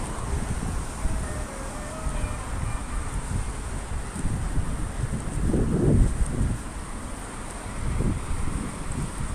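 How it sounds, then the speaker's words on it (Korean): Steady wind rushes and rumbles against the microphone, swelling into stronger gusts in places, with no talking. "바람 소리가 너무 세? 너무 바람 많이 불어서 그래도 시원한 거지"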